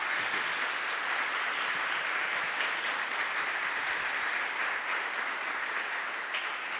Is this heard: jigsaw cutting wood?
no